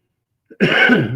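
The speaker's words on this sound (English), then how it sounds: "Pardon my coughing." A single sharp cough bursts out after a brief throat noise, followed by a rough, sustained hacking that carries to the end, close and fairly loud.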